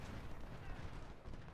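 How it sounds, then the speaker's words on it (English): Artillery and rifle fire from an American Civil War battle in the Ultimate General: Civil War video game, a dense continuous roar of overlapping booms and crackling shots with no pauses. "Let the allied units exchange shots in the woods with the AI while the artillery just keeps firing."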